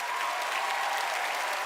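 Audience applause for the orchestra at The Game Awards 2022, a dense, steady wash of clapping from a large crowd that fills the whole short stretch at an even, moderately loud level.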